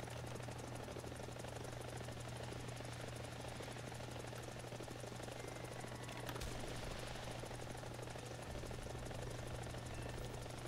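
A helicopter flies in the War Thunder video game, a steady, loud rotor drone and engine hum holding for about ten seconds without breaks.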